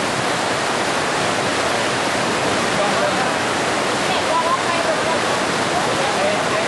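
Thailand waterfall pouring with a steady, loud broadband roar of rushing water, constant and unbroken from start to finish, close by with no other sounds standing out.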